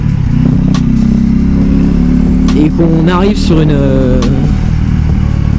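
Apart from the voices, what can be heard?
Husqvarna Vitpilen 401 motorcycle riding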